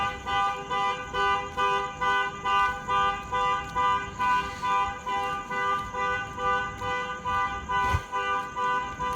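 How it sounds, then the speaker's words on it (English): A parked car's alarm sounds on and on, pulsing in a steady rhythmic cycle of electronic tones at constant loudness, with a sharp thump near the end. "God, I hate car alarms."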